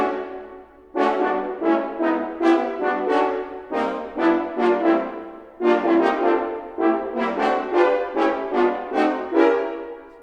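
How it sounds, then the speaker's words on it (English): A CineBrass library brass ensemble playing a series of major seventh chords, each a sharp-attacked, quickly decaying stab in a brisk repeated rhythm, full and close with no talk. "These are all the major sevenths here."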